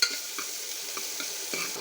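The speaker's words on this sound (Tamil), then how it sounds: "இது நல்லா பொரிஞ்சதும் நறுக்கின வெங்காயம் உள்ளே சேர்த்துக்கிறேன்" Chopped shallots frying in a pan, a soft continuous sizzle with faint stirring taps.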